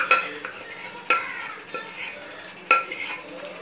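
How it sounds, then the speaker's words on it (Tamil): Boiled mutton being stirred into masala in a pot for mutton kulambu, with a few sharp metallic scrapes of a spoon against the vessel over a soft, steady background hiss. "இப்போ வந்து மட்டனை வேக வச்சுருக்கல, அதை போடுறேன்."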